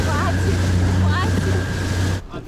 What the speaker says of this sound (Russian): Здесь сейчас поднялся небольшой ветерок. И наш катер прям прыгает по волнам.